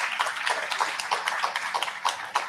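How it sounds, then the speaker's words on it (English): Audience applause at a South Africa–Colombia forum: steady moderate clapping from a modest crowd, fairly close and even in rhythm, with no talking over it. "So please give her another big round of applause."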